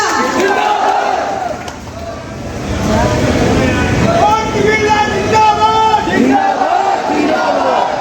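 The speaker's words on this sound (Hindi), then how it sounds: "एक बार जोरदार तालियों के साथ माननीय मंत्री महोदय श्री ओम बिरला जी" A large crowd at a Bhil tribal community pride conference cheers and applauds loudly for a Union minister. The roar is continuous and dense, and an amplified voice speaks over it throughout.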